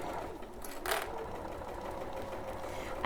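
A domestic sewing machine stitches down fabric binding with a steady, continuous mechanical whirr that stays close and even throughout, with a brief louder rattle near the start.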